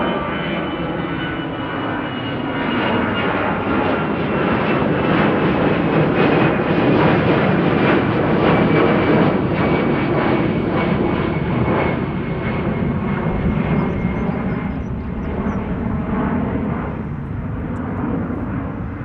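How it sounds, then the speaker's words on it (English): An EasyJet jet climbs out from Amsterdam Schiphol with a loud, continuous engine roar that swells and then tapers slightly, carrying a thin whine, heard alone. "EasyJet taking off in the meantime over here"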